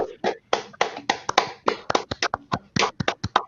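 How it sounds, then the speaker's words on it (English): A small group at a 2020 graduate celebration claps for graduates, individual hand claps clearly separate in a quick, uneven patter close to the microphone. "let's do another round of applause"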